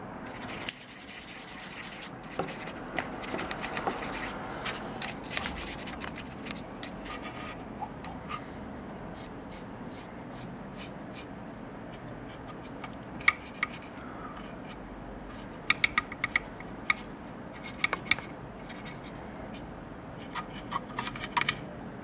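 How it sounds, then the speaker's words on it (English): Dry brushing with Runefang steel paint over the tracks, road wheels and support rods of a plastic Space Marine Stalker/Hunter tank model: soft, scratchy bristle rubbing in irregular bursts, close and quiet, with occasional sharper taps. "Now dry brushing tracks and wheels and support rods with Runfang steel."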